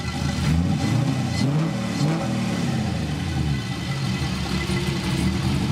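A deep, throaty V8 engine in a Miata revs repeatedly, rising and falling in pitch, loud and close, with no talking.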